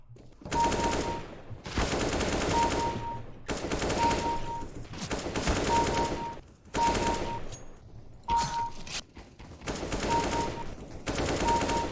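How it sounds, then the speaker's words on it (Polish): AK-47 automatic gunfire in the video game Counter-Strike, loud repeated bursts of rapid fire separated by short gaps, close and dominating throughout. "Będę ich piekał z kałaszka"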